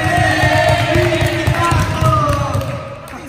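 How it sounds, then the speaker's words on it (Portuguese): A crowd at a judo athletes' fun competition cheers and claps for the blue team. The noise is loud and sustained, with shouting voices layered over it, and it eases off at the close. "Eu queria uma salva de palmas para a equipe com 15 pontos apenas"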